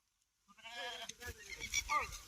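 Sheep on a farm beside a field give a close, wavering bleat that breaks into a couple of rougher calls, clear against a quiet background.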